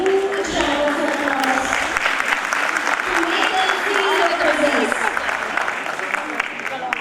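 Dense, steady clapping fills a hall as guests are welcomed at a CPWD Officers' Wives Association cultural evening, the applause sustained throughout while a presenter's amplified voice speaks over it.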